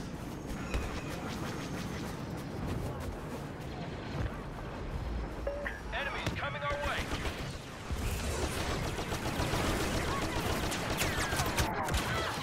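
Rapid bursts of blaster gunfire in the video game Star Wars Battlefront crackle continuously over a dense, noisy background, with a few sharper shots standing out.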